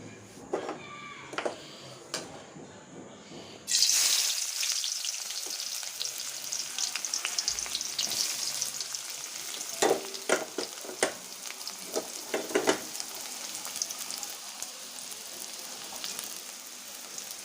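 Hilsa fish fries in a pan with oil, a sudden loud burst of sizzling that settles into a steady crackling hiss dotted with sharp spits and pops, preceded by a few quiet kitchen clatters; nobody speaks.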